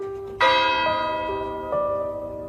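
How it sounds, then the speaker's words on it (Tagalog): A village church bell is struck once with a sharp clang and left ringing in a long, bright, slowly fading hum, with a softer second swell about a second later. "Isang beses lang tumunog ang kampana, pero parang umalingaw-ngaw sa buong baryo."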